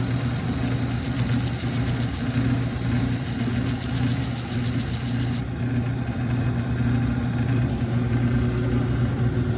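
A Ryobi power carver spinning a 150-grit wheel gives a steady, loud motor hum with a bright grinding hiss over it that stops partway through, leaving the motor droning on its own.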